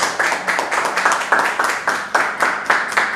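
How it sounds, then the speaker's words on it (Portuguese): A church congregation claps in a slow, regular rhythm, each clap cluster landing about every third of a second, close and fairly clear. "Quem pode aplaudir Jesus?"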